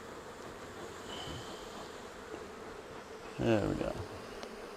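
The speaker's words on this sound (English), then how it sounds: "you've got bees now all the way around the edges again under this excluder" Honey bees humming around an open hive box with a queen excluder, a soft continuous buzz with a single bee whining past, and a person briefly speaking near the end.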